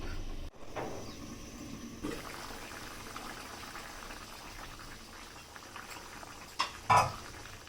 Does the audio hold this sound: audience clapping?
no